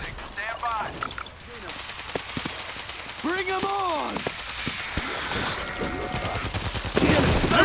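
Gunfire from the zombie shooter World War Z, with sharp repeated shots and bursts scattered through the clip, mixed with game noise and players' voices talking over it.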